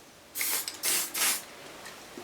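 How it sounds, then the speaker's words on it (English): Three short bursts of PTF lubricant spray from an aerosol can, applied to the cone of a Swedish wrap tool, each a bright, close hiss of about a third of a second, followed by a faint fourth puff, with no talk. "I'm still trying this PTF spray, which seems to be working pretty well."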